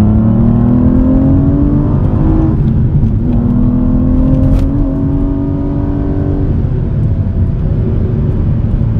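An Aston Martin V12 Vantage's V12 engine revs up through rising, smooth tones, dipping briefly between manual gear shifts, loud and close, with a deep continuous rumble underneath.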